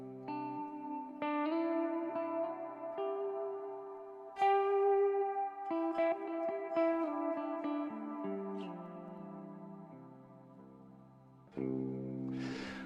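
An electric guitar played through distortion and echo, sustained chords and notes ringing out with a swirling, effected tone, fairly loud and with no talking.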